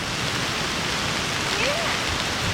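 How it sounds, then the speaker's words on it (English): Heavy rain pours down steadily during a rainstorm at an outdoor campsite, a dense, continuous hiss close by with no letup. "Well, Tommy, you think it's raining enough?"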